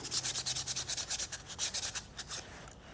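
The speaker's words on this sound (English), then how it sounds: "400 grit sandpaper, and just dunk it in the water and start sanding away till it's smooth" Rhythmic wet sanding by hand with 400-grit sandpaper on glazing putty, steady back-and-forth strokes close up, slowing and fading toward the end.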